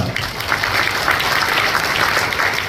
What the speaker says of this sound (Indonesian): Sekali lagi beri tepuk tangan tamu kita